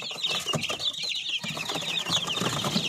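Darag native chickens being fed fruit and vegetables, their soft clucks and chatter overlapping with rustling and the odd wing flap in the yard, with no talking.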